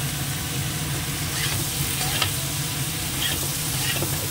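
Cucumber sautés in a pan, a continuous loud, close sizzle with a few faint scraping stirs and small crackles rising above the steady hiss.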